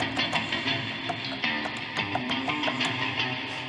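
Electric guitar run through the Guitar Rig Breath You Hold preset, heard as a dense, sustained processed tone with faint repeated plucked accents, steady and moderately loud with no talking.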